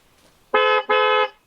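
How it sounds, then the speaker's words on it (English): A car horn sounding two loud, close toots in quick succession, each a steady tone of about a third of a second, used as a quiz buzzer. "you do a two-horn toot"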